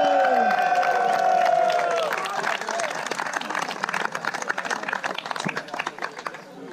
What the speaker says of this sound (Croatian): veliki pljeskom moramo da pozdravimo Antun Vukadinović